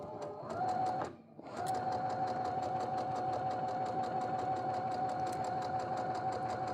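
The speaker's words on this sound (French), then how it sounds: "je n'aime pas du tout coudre à l'aiguille double, parce qu'il faut baisser la vitesse" A Brother sewing machine runs slowly with a twin needle, a steady rapid ticking drone with a faint whine, briefly pausing near the start before settling into an even, close stitching rhythm.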